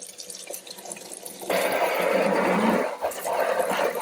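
Running water rinses an RC car body, starting as a light trickle and then becoming a strong, steady spray with splashing against the plastic, heard up close with no talking.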